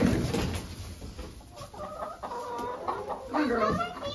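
Hens clucking softly inside a chicken coop at a horse barn, with scattered quiet calls and someone speaking gently over them.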